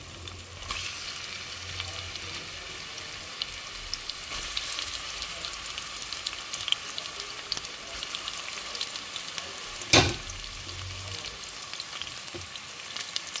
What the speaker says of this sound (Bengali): পেঁয়াজ আর কাঁচামরিচগুলো দিয়ে দিব।